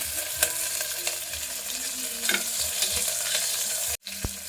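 Garlic, green chillies and curry leaves frying in a pot for a spinach khichdi tempering, a dense continuous sizzle with occasional stirring clinks and a brief knock near the end, no voices.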